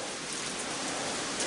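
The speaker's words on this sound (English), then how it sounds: "It just started raining now." Steady rain falling and pattering on surfaces, a continuous close wash of noise with no voices.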